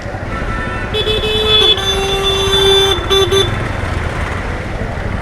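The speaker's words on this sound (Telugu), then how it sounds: "ఈ ఆటో వాళ్ళు హార్న్లు కొట్టుకుంటున్నారు." Auto-rickshaw horns blare in loud, wet night traffic, one long sustained honk with a few shorter beeps ending it, over constant road rumble and passing engines.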